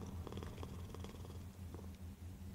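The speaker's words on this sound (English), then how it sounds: "Oh, listen to the purr." A cat purrs steadily in the video game Hades II, a soft continuous rumble close by with faint game music and drums underneath.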